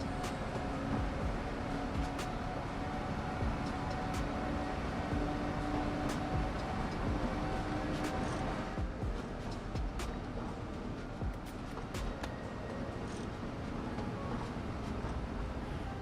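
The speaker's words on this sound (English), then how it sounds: "you can actually hear track noise and some good running noise" Rumbling train running noise with steady track sound from the Boston Sprinter diesel multiple unit in Train Sim World 2, continuous and moderately loud with faint clicks, no talk.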